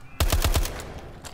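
Rapid bursts of gunfire from Call of Duty: Advanced Warfare zombies mode, about four booming shots in quick succession, loud and close, then a fading tail.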